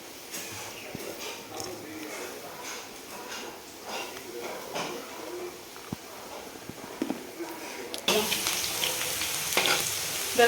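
Potatoes fry in a pan for breakfast, a continuous close sizzle with scattered clinks and scrapes that grows louder and brighter toward the end.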